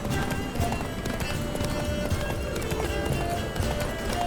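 Roach, Geralt's horse in the video game The Witcher 3, galloping with rapid steady hoofbeats close by over a low rumbling background, continuing without a break.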